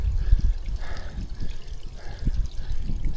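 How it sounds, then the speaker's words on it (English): Water trickles and gurgles in a small mountain stream in Andorra, a steady close flow. "Oh, look, water."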